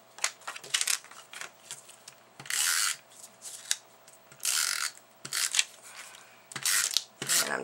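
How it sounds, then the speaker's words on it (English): Tape is pulled off and pressed onto a card piece in short bursts of ripping and crackling, several separate strips close by and fairly quiet, with small handling clicks between. "So let's once again get some tape on here."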